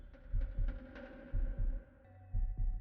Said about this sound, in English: Your heartbeat fastens.